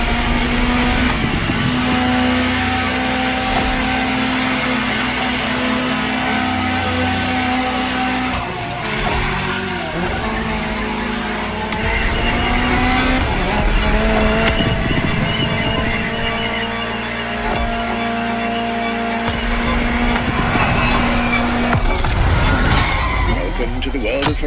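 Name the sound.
Ferrari supercar engine driving, from video game The Crew Motorfest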